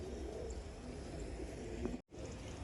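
A large blue pigeon with white eyes coos in a loft, a soft low murmur under steady broadband background noise, broken briefly by a short gap near the end.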